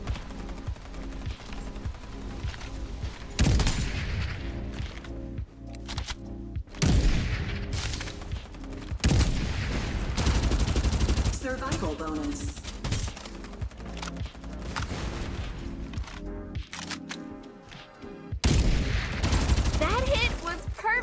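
Gunfire in the Farlight 84 battle royale game, rapid bursts of automatic shots with heavier booms, loud and nearly continuous, with a voice talking at times over the shooting.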